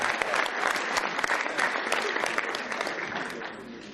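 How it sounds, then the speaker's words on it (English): A conference audience at a national convention on nation building and reconciliation breaks into dense, sustained applause that stays loud throughout and tapers only slightly. "So we must give them a round of applause."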